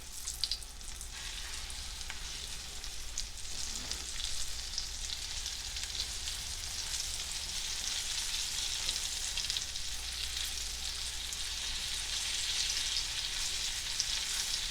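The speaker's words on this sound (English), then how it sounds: "I'm going to put my turkey breast in my hot oil" Flour-dredged, egg-coated turkey breast fries in hot oil in a pan, a steady close crackling sizzle that stays even throughout with no talking.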